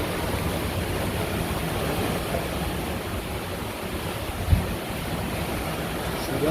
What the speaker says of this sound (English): We are clipping along in the rain.